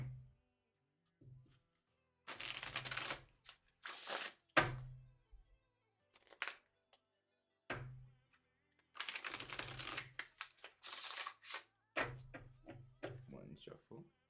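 Tarot cards are shuffled in two longer riffling bursts, surrounded by softer handling taps, thumps and occasional voice.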